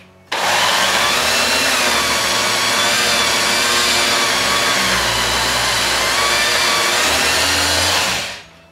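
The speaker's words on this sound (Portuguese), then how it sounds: "quando vocês apertarem o botão da batedeira para ela girar" A homemade electric orange juicer driven by a mixer motor whirs loudly and steadily for about eight seconds, with a rough grinding edge, then cuts off.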